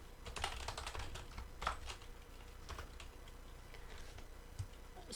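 Fingers type on a computer keyboard while entering data in an Excel sheet, a faint, sparse patter of separate key clicks with a few slightly firmer presses, heard alone and at a low level.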